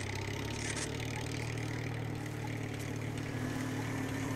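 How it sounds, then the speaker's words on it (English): A tuna tractor's engine runs in the video game Total Overdose, a steady droning motor hum that holds evenly throughout without talk. "Oh, I can drive a tuna tractor."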